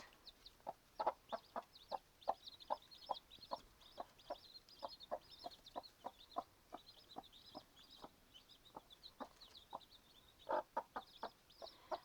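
A hen clucks in short, steady pulses while her nine newly hatched chicks peep continuously in high, thin cheeps, all fairly quiet and close by.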